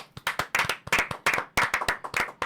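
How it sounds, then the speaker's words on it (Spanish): Small studio audience on a Christian talk show clapping in quick bursts of a few hands, sharp distinct claps near and loud, bunched into uneven rhythmic groups with brief gaps. "Un aplauso"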